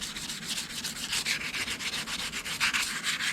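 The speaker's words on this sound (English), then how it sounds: "Now this is a piece of scrap 320 sandpaper. I'm just going to ease those edges off just a little bit." A scrap piece of 320 grit sandpaper rubs back and forth along the sharp metal edges of a milling machine vice, making a steady, close, rhythmic rasping sound on its own.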